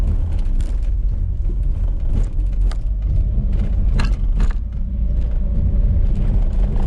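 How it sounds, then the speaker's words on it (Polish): A BMW E30 rolls at about 20 km/h over unevenly laid concrete slabs, its low road rumble steady inside the cabin, broken by repeated thumps and rattles from the suspension. "Nierówno ułożone betonowe płyty 20 km na godzinę"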